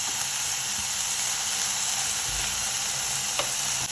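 Mint leaves sizzle and fry steadily in a pan while being sautéed for a chutney, a continuous close hiss with faint stirring scrapes and no talk.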